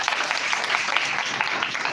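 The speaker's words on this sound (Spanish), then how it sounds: "Denle ese fuerte aplauso al Señor." A church congregation bursts into loud applause of praise during worship. The clapping is dense and sustained throughout and sounds close and full, with no clear talk above it.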